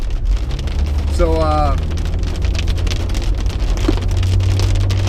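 Rain pours steadily in a fast burst during an October storm in Arkansas, a dense close hiss of drops on surfaces with a constant low rumble beneath and a brief voice partway through.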